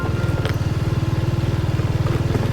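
A motorcycle engine strains uphill in low gear on a mountain road toward Rancabali, a loud, close, steady rhythmic low thrum with no talking.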